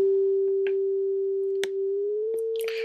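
Sampled 16-bit sine wave tone holding a steady pure pitch that drifts slightly upward near the end, accompanied by a few faint clicks and snaps; sounds alone and moderately loud.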